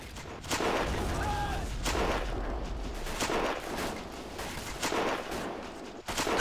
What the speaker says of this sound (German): Oh, da hat ein Franzose geschossen. Das höre ich sofort.